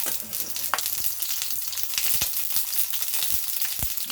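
Organic garden eggplant frying in hot oil gives a steady, dense sizzle close up, broken by sharp pops and crackles as the oil splatters.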